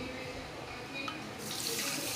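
Water poured from a cup into a pan holding sugar for gulab jamun syrup, a soft splashing trickle that swells into a brighter rush near the end, close by.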